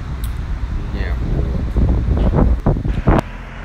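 Heavy wind buffets the microphone with low rumbling gusts while someone talks over it.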